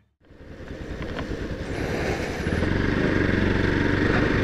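Motorcycle being ridden on a road trip from Guwahati to Litlum village, its engine droning steadily close by and growing louder as it picks up speed, with wind noise and no talking.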